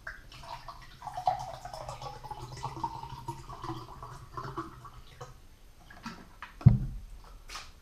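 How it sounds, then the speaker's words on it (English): Water pours into a glass indoors, a soft gurgling trickle that runs for several seconds and ends in a brief splash and clunk. "So I'm gonna pour myself a glass."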